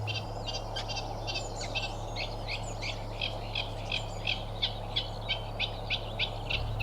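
A reed warbler calls from within a stand of reeds, a series of repeated short chattering notes at a moderate distance, steady and fairly quiet over a low background hum.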